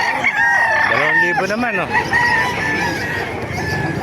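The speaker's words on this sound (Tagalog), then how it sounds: "Maraming manok dito." Many chickens and roosters at a busy poultry market in Calumpit, Bulacan, crowing loudly and clucking continuously, with overlapping calls close by and someone talking over them.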